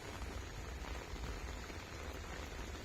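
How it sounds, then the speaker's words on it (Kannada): Heavy rain in Bengaluru falls as a dense, even wash of noise, faint but steady throughout and unbroken by any voice. "ಇದು ಯಾಕೋ ಮಳೆ ತುಂಬಾ ಜೋರಾಗ್ತಾಯಿದೆ"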